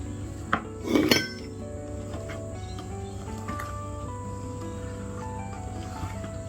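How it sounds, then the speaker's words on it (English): Brownie batter is stirred in a bowl, with a brief cluster of spoon-on-bowl clinks near the start, then quiet scraping over a steady low hum. "we're going to stir that in until it's combined, and then we're going to stir it a bit faster"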